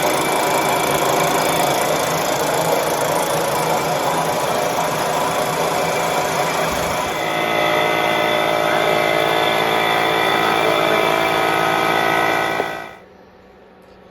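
A stock Solex 2200 moped engine runs steadily on a test bench outdoors, a loud continuous buzzing drone holding a constant idle for about thirteen seconds before cutting off abruptly into quiet.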